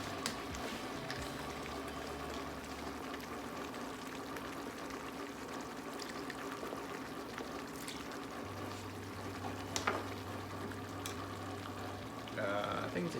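Water and milk poured into a hot pan to make a cream sauce for pheasant, a quiet, steady trickling pour over a soft background sizzle.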